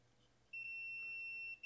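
A multimeter on a continuity test gives one steady, high electronic beep lasting about a second, close and clear over a quiet background, then cuts off abruptly with a short blip at the end.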